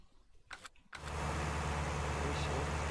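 A 175-horsepower tractor engine in a farming video game roars on suddenly after a second of quiet shuffling. It settles into a loud, steady, straining drone that continues to the end.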